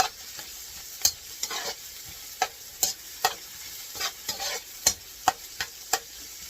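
Onion roasting in a pan for dinuguan, a Filipino black stew, giving a steady close frying hiss broken by repeated sharp stirring scrapes and clicks at an irregular rhythm, with no one talking.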